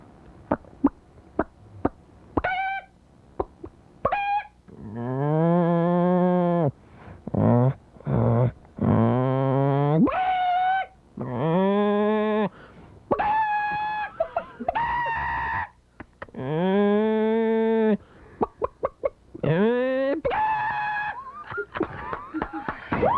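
A voice imitates a chicken clucking and a cow mooing together in a radio studio, with sharp squawks and drawn-out moaning moos trading off in bursts, loud and close.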